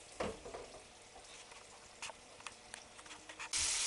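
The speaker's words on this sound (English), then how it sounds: "So fry these for 5 minutes and then I'll turn them over." Pork medallions fry in a pan for a Dijon pork dish, a quiet sizzle with scattered crackles and pops, then a louder burst of hiss near the end.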